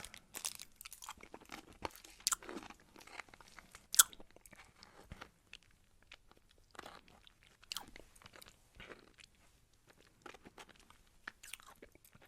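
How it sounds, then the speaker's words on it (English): Sour gum is chewed close to the microphone in an ASMR setting. Wet crunches and soft sticky smacks come in an irregular rhythm, with quiet pauses between bites and no speech. "We're going to be having some gum chewing. This is sour gum."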